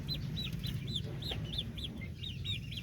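Three young roosters, about three months old, cluck and call in a series of short rhythmic notes over a low background hum, fairly faint and steady.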